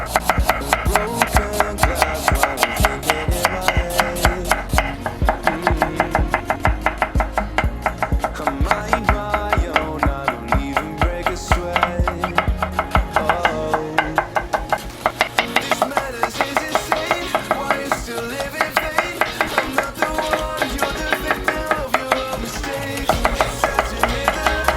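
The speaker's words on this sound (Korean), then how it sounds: "채 썰어줍니다." A knife julienning a small carrot on a cutting board for japchae gives rapid, steady chopping taps, loud and close, continuing evenly for over twenty seconds.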